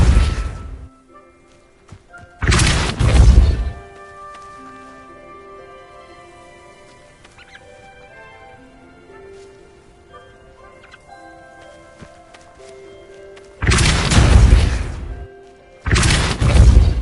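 Spell impacts in Hogwarts Legacy: two pairs of loud, short bursts of blast and crash sound, separated by a long stretch of soft tonal game music.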